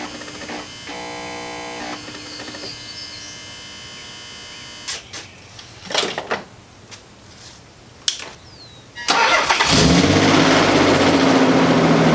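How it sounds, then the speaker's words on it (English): A Nissan 300ZX with air suspension being started and running; a mechanical whir and a few clunks come first, then the engine catches and settles into a loud, steady idle close by. "turn the car on, pull it out"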